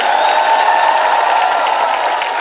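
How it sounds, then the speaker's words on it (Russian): A stand-up comedy crowd applauds, dense and fairly loud, with a sustained bright tone running under the clapping throughout. "Это заслуживает аплодисментов"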